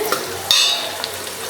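Onions sautéing in a pan for coconut milk fish gravy, a close hiss of frying with a quick spatula scrape partway through.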